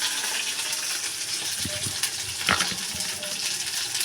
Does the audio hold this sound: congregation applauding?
no